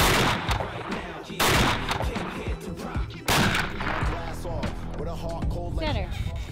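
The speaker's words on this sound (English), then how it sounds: "I've never shot a Browning shotgun with a scope before, so I think I need a sighted in." A scoped Browning shotgun fires while being sighted in at a range: several sharp, loud blasts spaced a second or two apart, with voices talking between and over the shots.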